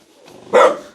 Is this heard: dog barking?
yes